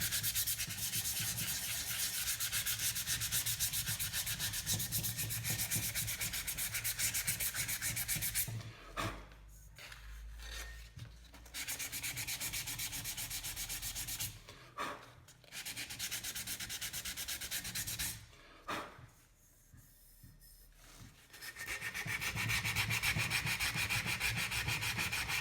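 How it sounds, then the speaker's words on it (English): A metal lantern fount is rubbed by hand with 150-grit sandpaper, a continuous close scratching broken by a few short pauses. "continue off camera with some 150 grit on the rest of this just to smooth it out"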